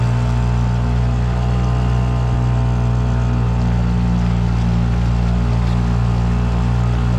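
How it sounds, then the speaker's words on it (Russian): A new NS Marine two-stroke 5 hp outboard motor runs steadily and loud at close range, a constant droning hum with strong low harmonic tones and no pauses. "Приятный моторчик."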